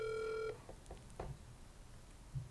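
A phone call that goes unanswered produces a single short, steady electronic ring tone for about half a second, then quiet room noise with a few faint knocks.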